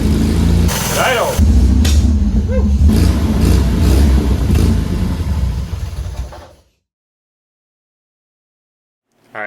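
MGB sports car engine idling after sitting for ten years, a steady low rumble with a brief rev up front and a voice speaking over it, then cutting to silence.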